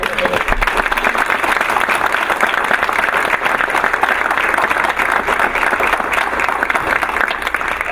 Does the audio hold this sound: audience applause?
yes